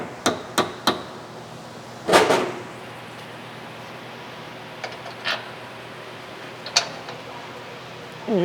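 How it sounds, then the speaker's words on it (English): Hammer taps on a lower front control arm of a 2017 Mazda CX-5, nudging it into place: three quick close metallic knocks, then a heavier strike, followed by a few lighter scattered taps in a quiet garage. "Even getting a little hammer on there just to kind of move it into place where you want it to."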